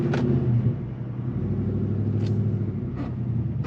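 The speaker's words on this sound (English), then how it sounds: "Let's do a cold start up. That's in quiet mode" A supercharged Ford engine idles after a cold start in quiet mode, a steady low rumble close by with a few faint higher ticks over it.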